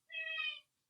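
A house cat gives a single drawn-out meow, about half a second long, clear and close in an otherwise quiet room with no talk.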